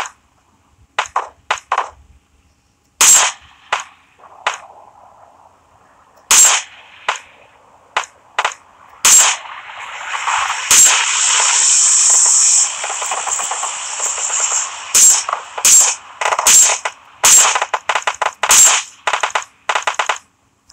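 Gunshots from a shooter video game come as sharp, loud single and paired cracks in irregular bursts. They are separated by short silences, and a hissing, rushing stretch sits in the middle.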